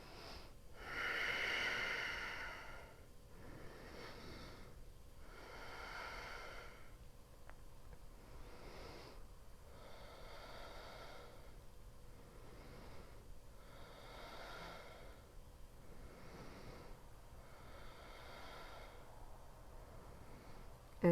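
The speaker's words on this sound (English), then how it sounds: "So now breathing into left side body." Slow, deep breathing during a kneeling yoga gate pose, with soft rhythmic breaths in and out through the nose, close and quiet and repeating steadily, with no voices.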